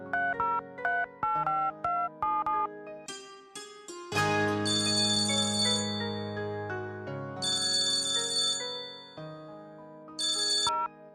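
A melodic phone ringtone plays loud and close, a repeating chiming tune with bright, bell-like tones that swell and pause in cycles, with no voices.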